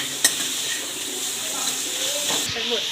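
Pieces of bitter gourd hit hot oil in a pan with a sudden strong sizzle that keeps hissing steadily, with a sharp clink of a utensil early on and a voice speaking faintly underneath.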